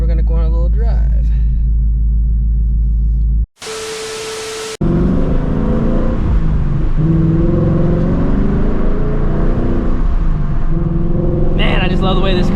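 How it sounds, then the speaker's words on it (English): A 2024 Ford Mustang GT in base model form is heard on the move, with a steady, loud low engine rumble and road noise filling most of the stretch, broken by a brief gap of hiss, with some talk at the start and end. "Man, I just love the way this car sounds."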